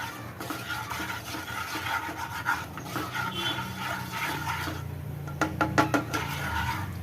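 A spoon stirs potatoes with Kashmiri chilli powder, salt and asafoetida in a pan, giving close scraping and soft sizzling, with a few sharper clinks of utensil on metal near the end and no talking.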